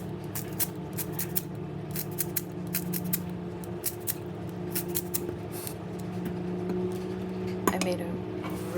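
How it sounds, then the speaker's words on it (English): Kitchen scissors snip leeks into pieces for soup, giving rapid crisp close cuts that repeat steadily throughout, with a few soft clinks from utensils near the end. "So now I'm just snipping these leeks up using the snip method."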